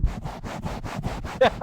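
A voice imitates a microphone rubbing against a beard, a rhythmic series of about eight brushy, scratchy swipes, close and fairly loud, ending with a short vocal sound.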